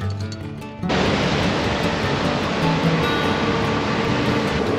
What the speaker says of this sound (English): Off and on rain.